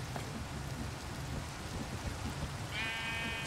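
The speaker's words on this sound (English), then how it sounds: "Excuse me, Mr. Sheep." A single sheep bleat from the video game Minecraft, played in the FTB Skies modpack, arriving near the end over a dense bed of rain-like ambient noise and low rumble.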